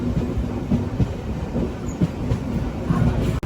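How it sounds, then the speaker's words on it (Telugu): A Tirupati–Pondicherry MEMU train pulls out of Kanchipuram station, its wheels rumbling over the rails with steady clickety-clack beats heard from inside the coach, loud and continuous, with no voices. "కాంచీపురం స్టేషన్ నుంచి మన ట్రైన్ అయితే బయలుదేరింది."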